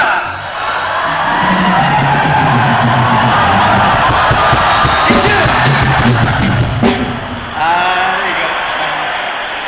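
A large crowd of college students in an indoor hall shouts and roars while doing a wave during a 1999 closing worship ceremony, with a sustained loud swell of voices and someone speaking over a microphone.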